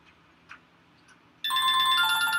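A telephone ringtone starts abruptly about halfway through and keeps sounding loudly with a steady tone, after a few soft indistinct noises.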